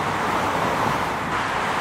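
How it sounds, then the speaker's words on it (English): Steady broadband hiss of a car driving on a wet, slippery road in the rain, tire spray and road noise continuous and close with no voices. "It is raining. It is slippery, but it's not as bad that I couldn't drive."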